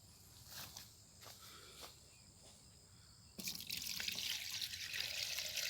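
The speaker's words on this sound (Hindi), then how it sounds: "तो इसमें डालिए 1 लीटर पानी।" Water poured into a spray pump sprayer: faint drips and trickles at first, then a steady louder rush of liquid filling the tank for the last couple of seconds.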